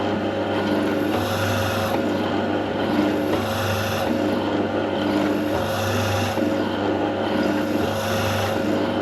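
A steady, grinding drill whirs continuously into a tough Falcon propeller for a giant-scale RC gas plane, with a constant motor hum and slight rasping swells throughout.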